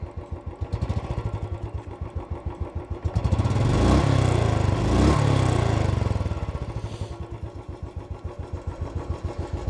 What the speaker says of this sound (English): I'll just do a little bit of a rev.